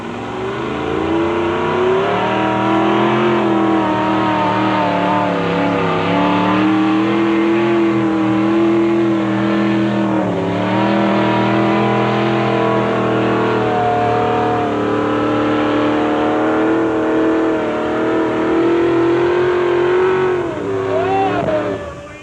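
A modified two-wheel-drive roadster races past, its engine droning loud and steady with rising and falling revs over about twenty seconds, close and continuous.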